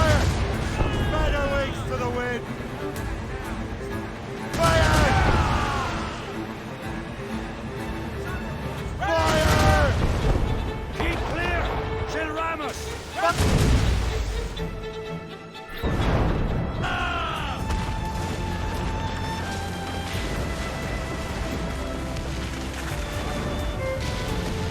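Cannons boom in several heavy blasts during an Assassin's Creed Rogue naval battle at sea, the shots rumbling out over waves and ship noise. A voice talks between the volleys.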